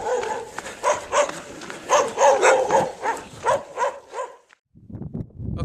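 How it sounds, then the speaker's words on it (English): Dogs in a small early-morning community bark in a rapid run of loud, sharp yaps for about four seconds, then fall briefly silent before fainter barking resumes. "Dogs, that's never good."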